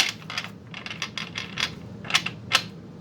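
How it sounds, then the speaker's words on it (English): A deck of playing cards being shuffled, with a series of crisp riffling and flicking bursts, a couple of sharper snaps near the end, close and fairly quiet with no talk. "I'm gonna shuffle one more time"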